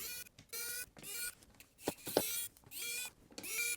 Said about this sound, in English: Hopefully I got enough juice in my little tiny electric screwdriver here.